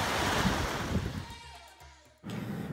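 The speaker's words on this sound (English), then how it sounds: "This is the beach in Macau." Ocean surf washing onto a beach in Macau, a steady broad wash of waves with wind noise that briefly drops out partway through before the roar returns.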